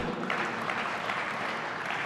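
Applause from an inauguration audience, a dense, even wash of many hands clapping at moderate loudness, sustained without pause and with no voices over it.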